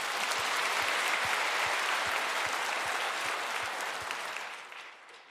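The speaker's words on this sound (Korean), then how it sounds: "큰 박수로 하나님께 영광 돌리겠습니다" A church congregation claps together at a Korean Sunday worship service, producing steady, dense applause that fills the room and fades toward the end.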